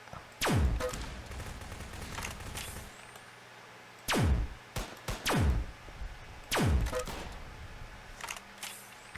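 Gun firing in Roblox's 2 Player Battle Tycoon, loud booming shots in short bursts, each with a falling, echoing tail, three main volleys spread over several seconds with a few lighter clicks between.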